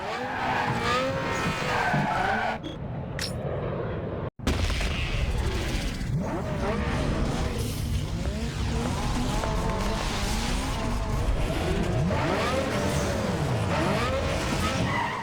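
A Nissan Skyline in the racing game NFS Underground 2 screams through a URL circuit race, its engine roaring continuously under long, wavering tire squeals and skids, with a brief dropout partway through.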